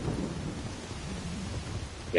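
Rain and thunder in the video game Assassin's Creed Shadows form a steady soft rainfall wash with low rumbling, faint and continuous, with no talk over it.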